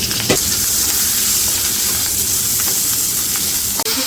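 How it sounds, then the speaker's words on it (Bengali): Onions and green chillies sizzle steadily in hot oil after fish has been fried, a dense, close frying hiss that runs unbroken with a couple of faint clicks and no voices. "এই তেলের মধ্যে পেঁয়াজ আর কাঁচামরিচ দিয়ে দিলাম।"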